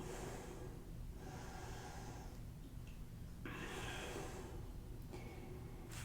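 Slow, deep breaths during a yoga practice, each long airy inhale and exhale swelling and fading in turn, close and fairly soft over a steady background hiss, with no talking.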